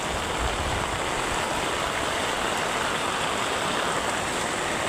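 Heavy monsoon rain pouring steadily over a village with paddy fields and a river nearby, a dense, continuous wash of hiss and splashing at constant loudness with no voices.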